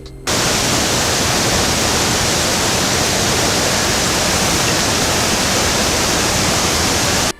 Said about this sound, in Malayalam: കുത്തിയൊലിച്ചു വരുന്ന വെള്ളത്തിൻ്റെ സുന്ദര ദൃശ്യവും പ്രകമ്പനം കൊള്ളിക്കുന്ന ശബ്ദവും